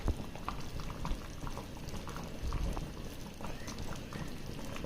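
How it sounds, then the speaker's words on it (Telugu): Chicken curry bubbles and simmers in a pot, a dense, continuous patter of small pops and gurgles heard up close at low volume with no talking. "కర్రీ బాగా ఉడుకుతుంది, ఆల్మోస్ట్గా ఉడికింది"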